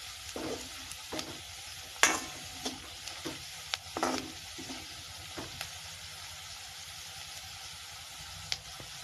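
Turmeric and spice masala sautéing in a pan, a quiet sizzle with occasional scrapes and taps of a spoon stirring, fairly faint and with no talking.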